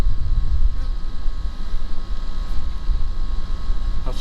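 A Kubota Z725 mower engine runs steadily and loud, a dense close drone with little change in throttle across the stretch, no talk over it.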